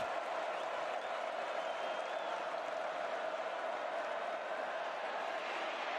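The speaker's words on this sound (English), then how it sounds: "Here comes this crowd. They have been into it from the opening kick." A stadium crowd at a 2021 college football game between Kansas State and Oklahoma State roars with sustained cheering and applause, a dense, steady wash of distant noise holding level throughout without a break.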